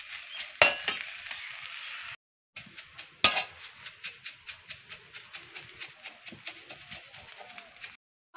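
Neem leaves fry in a pan, with a steady hiss interrupted by rhythmic metallic clinks and scrapes of stirring, close and moderately loud, with a couple of brief pauses.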